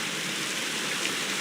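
Rain falls steadily in a game scene, an even, dense hiss of drops with no distinct individual impacts, moderately loud and with no voices over it.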